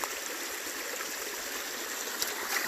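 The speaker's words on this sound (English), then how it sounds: "this is a little stream that runs through. Little brook, I guess maybe you'd call it." A small brook runs over rocks under logs and posts, a steady close rushing and trickling of water at an even level with no voices.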